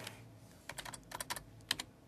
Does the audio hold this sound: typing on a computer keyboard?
yes